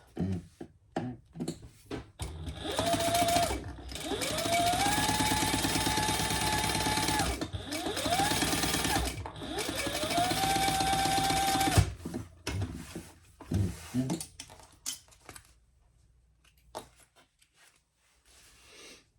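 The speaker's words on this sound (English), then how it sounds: "I'm going to go ahead and top stitch on through that bottom" A sewing machine top stitching fabric runs in several sustained bursts of rapid whirring with rising and falling motor pitch, separated by short pauses and scattered handling clicks, close and clear with no talking.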